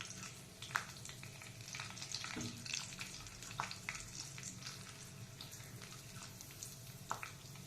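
Garlic sizzles with cumin seeds in hot oil, a soft continuous crackle with scattered small pops and faint stirring clicks, fairly quiet and without speech.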